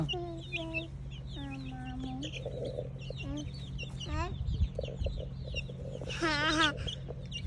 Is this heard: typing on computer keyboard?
no